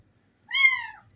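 A kitten gives one clear, rising meow lasting about half a second, close by, with near silence before and after.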